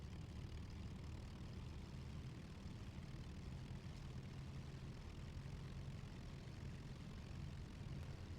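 Four-engine Lancaster bomber in a flight simulator game revving up as throttle is increased, a steady loud propeller-engine drone with deep low rumble that holds constant throughout, with no talk over it.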